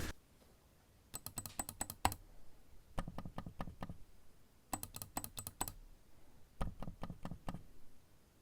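Quiet, muffled clicking in several quick bursts from a Logicool M575 SP silent computer mouse, soft and close, with short pauses between groups of clicks.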